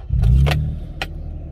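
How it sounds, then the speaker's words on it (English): Engine of a 2006-2013 Toyota Tacoma starts up close by, a short cranking burst settling into a low, steady idle, with a couple of faint clicks over it. "we can verify it by shutting the car off, turning it on"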